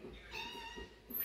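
A pet cat meows indoors in a busy home, its faint cry rising once and trailing under low household noise and distant voices.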